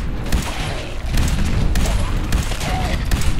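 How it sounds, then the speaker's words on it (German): Explosions and gunfire in the video game Fallout 4, with grenades going off amid a dense barrage of booms and shots, loud and continuous throughout. "Ey, da hör auf mit den Granaten rumzuschmeißen."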